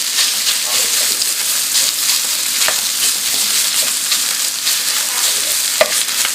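Lean ground beef being broken up and stirred in a hot pan with garlic and onion, giving a steady, loud sizzle under a few scraping spoon strokes.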